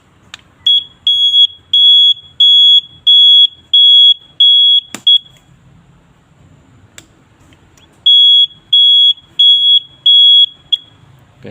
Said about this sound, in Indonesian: Alarm ini akan merespon listrik yang mati dengan mengeluarkan suara